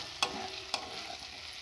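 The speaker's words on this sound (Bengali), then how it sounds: "ধনেপাতা কুচি দিয়ে সব কিছু মিশিয়ে নিয়ে নেড়ে চেড়ে ঢেলে নিলেই হয়ে যাবে" Chickpea curry being stirred in a pan with chopped coriander, a soft continuous sizzle with two brief scraping clacks of the spoon against the pan.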